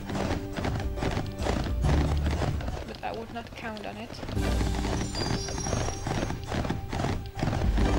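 Hoofbeats clip-clop and a horse whinnies in Barbie's Horse Adventures video game, the galloping rhythm running under game music while a voice talks over it.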